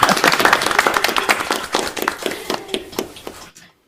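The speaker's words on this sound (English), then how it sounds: "Clap, clap, clap, clap, clap, clap." Audience clapping after a spiritual talk, a burst of several hands clapping irregularly, close and fairly loud, fading out and ending abruptly in silence.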